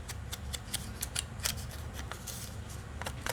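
Small paper pieces are snipped with scissors for journal cards in a quiet craft setting, a run of quick, close, irregular crisp cuts with no talking.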